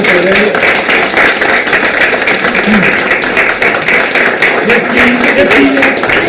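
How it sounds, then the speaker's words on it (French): An audience applauding at a film event in Cannes-en-Caux, steady sustained clapping throughout, with a voice speaking over it at times. "On applaudit Pavel."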